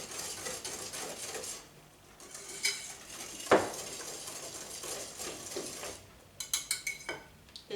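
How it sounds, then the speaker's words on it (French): A whisk stirs brownie batter of sugar and vanilla sugar in a bowl, giving soft, steady scraping with a few sharper metallic clinks against the bowl near the end, heard close with no talking. "Toujours avec notre fouet."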